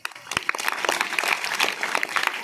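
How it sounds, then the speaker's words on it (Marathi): An audience at a village farewell ceremony claps together, a dense, lively burst of applause that carries on steadily throughout, close and loud with no speech over it. "टाळी वाजली पाहिजे."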